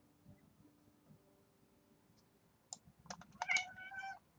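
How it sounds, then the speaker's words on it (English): A pet cat named Emmy lets out a burst of agitated meows near the end, following a few brief clicks, against a quiet room. "Do you hear my cat freaking out?"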